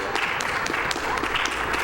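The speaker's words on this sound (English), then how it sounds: "Thanks for the applause" Steady applause from a speedrun event crowd at SGDQ 2014, a dense wash of clapping hands with no pauses.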